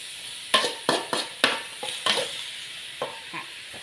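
A spatula stirs carrot and gourd-like vegetables in a pan for a sweet-and-sour stir-fry, making close, distinct scraping and tossing strokes in an uneven rhythm that gradually soften, with a faint sizzle and no talking.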